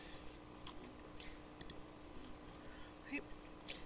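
A computer mouse clicks through a physics simulation on friction: a few faint, sharp single clicks spaced apart over a low, quiet room hum.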